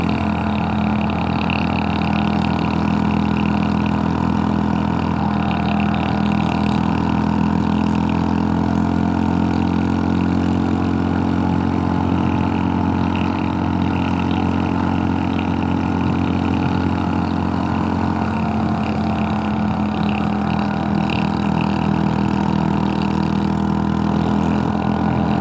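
Small mini-moto scooter engine running steadily on winding California Highway 36, a continuous close mid-pitched drone with wind rush, slight rises and falls in revs under engine braking, no talking.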